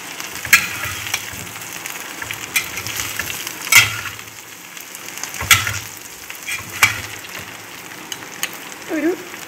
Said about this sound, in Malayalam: ആ വറുത്തും എല്ലാം കൂടി ഒന്ന് മിക്സ് ചെയ്യാം അല്ലേ?